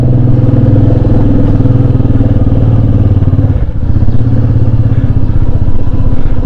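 A motorcycle is ridden through the Spiti mountains, its engine close and loud with a steady throbbing drone and a brief dip in revs partway through, then pulling on again.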